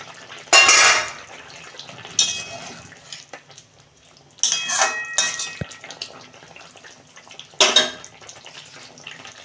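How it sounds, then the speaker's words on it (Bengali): A lid is lifted off a pot of simmering fish curry with ridge gourd and potato, producing several loud metallic clattering bursts separated by quieter bubbling and handling noises. "দেখুন বন্ধুরা, ঢাকনা খুলছি।"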